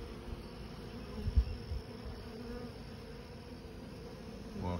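A soft, steady hum of honeybees flying around a swarm trap during a trap-out, faint and continuous outdoors, with a few low thumps near the start.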